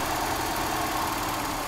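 A Mercedes-Benz W123 230E engine idles steadily with a close, even mechanical hum and no voices, its speed sinking slightly during an idle mixture adjustment.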